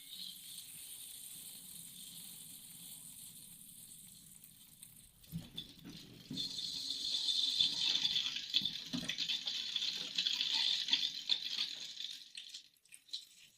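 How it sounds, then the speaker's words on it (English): Home water pump starting up to fill a tank from a village well, a soft hiss giving way after a few seconds to louder running water and rattling churn, fairly close. "the water seems to be filling up fine"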